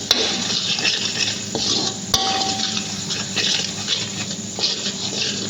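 Masala being stirred in a pan for a shrimp thokku, with a steady sizzle and scraping spoon strokes against the metal, plus a sharp clink near the middle, close and continuous with no talking.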